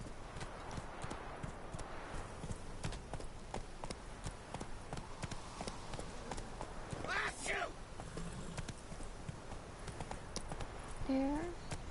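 Roach, a horse in the Witcher 3 video game, clip-clops at a steady gallop, the hoofbeats close and continuous throughout with a few faint game sounds in the background.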